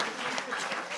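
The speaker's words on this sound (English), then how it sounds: "Big round of applause, ladies and gentlemen." Audience applause during the grand finale of a junior insurance quiz, greeting a contestant's answer; a steady, dense clatter of many hands filling the hall for a brief second.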